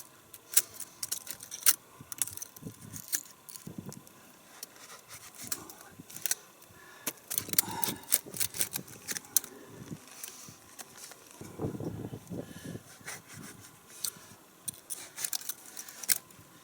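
A knife cuts into a cactus, giving scattered crisp clicks, snaps and scraping crackles at close range, irregular and sharp, running on with no talking.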